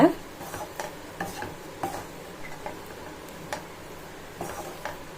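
A spatula taps and scrapes in a pan as bread masala is tossed with fried egg, producing light, regular clicking strokes over a faint sizzle.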